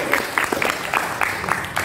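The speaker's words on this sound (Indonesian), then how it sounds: "Beri tepuk tangan untuk Om." An audience claps together in a burst of applause that runs steadily through the clip, loud and close, with a few sharper peaks among the many hand claps.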